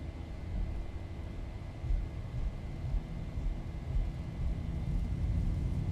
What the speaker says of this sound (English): Press the button, and there is Toga Power engaged. You can hear the engine spooling up.